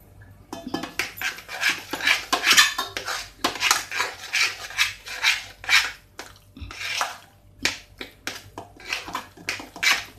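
Medu vada batter is mixed with salt in a bowl, producing loud rhythmic scraping and knocking of a utensil against the bowl in repeated short strokes, close up and without talk.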